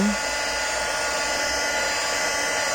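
A heat gun melting embossing powder on a handmade card gives a steady, loud, high-pitched whir that runs unbroken from start to end, close to the listener.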